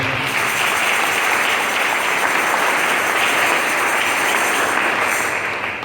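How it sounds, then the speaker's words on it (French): A church congregation applauding to acclaim the Lord, loud, dense, sustained clapping from a large crowd filling the whole stretch without pause. "Acclamons d'abord le Seigneur."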